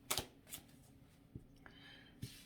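Tarot cards being shuffled by hand, a few short riffling bursts with quiet gaps between them, close and fairly soft.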